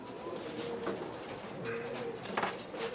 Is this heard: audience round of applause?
no